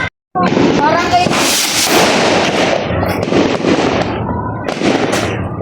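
New Year firecrackers explode in rapid, loud, crackling bursts nearby, an almost continuous barrage of pops and bangs with voices faintly underneath.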